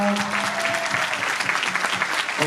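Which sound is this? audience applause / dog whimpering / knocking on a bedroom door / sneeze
audience applause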